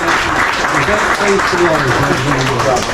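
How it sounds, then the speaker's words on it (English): An audience at a crappie fishing tournament championship applauds the anglers with loud, steady clapping that fills the whole stretch, with voices mixed in. "Let's give them a big round of applause."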